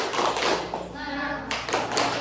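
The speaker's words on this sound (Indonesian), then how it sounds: "Tepuk semangat." Schoolchildren in a classroom do a spirit clap in patterned bursts of hand claps, with a short chanted voice in the middle between two loud runs of clapping.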